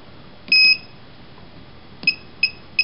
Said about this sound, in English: You'll get a louder beep when you're at the 0 point.